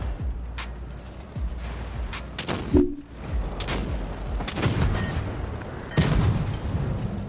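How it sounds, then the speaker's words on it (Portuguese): Gunfire in a shooter video game, scattered cracks and booming impacts at irregular intervals over a busy, noisy game soundscape with no talk. "Olha, toma uns tiros e nem vejo."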